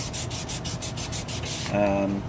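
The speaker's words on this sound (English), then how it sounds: "It's basically going to be hand sanding the handle." A flat chef knife handle is hand sanded after grinding to 220 grit, making rhythmic back-and-forth scraping strokes up close that stop before a brief voice comes in.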